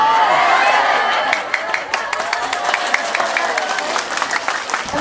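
An audience clapping at a religious talk by an ustad, loud at the start as a dense roar, then thinning into a brisk run of distinct, closely spaced claps with crowd murmur underneath.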